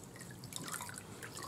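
A cooling towel dipped briefly into a bowl of water gives soft, close, continuous dripping and trickling that sits low and alone.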